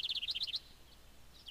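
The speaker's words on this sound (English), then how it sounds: "I'm so glad that we're out here with these birds again." Birds in the Mega Man Legends video game give a quick run of bright, high chirps, then a pause and a couple of fainter chirps, heard alone.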